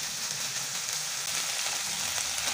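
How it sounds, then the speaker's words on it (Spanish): Bacon sizzling as it fries in hot oil with garlic and sliced onion, a steady close crackle and hiss that runs unbroken throughout. "Agrego 100 gramos de tocineta, mezclo muy bien hasta sofreír."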